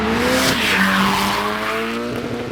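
Drift cars run flat out on a tree-lined course, engines roaring continuously with rising and falling pitch as tires squeal through a slide, loud and close with no talking.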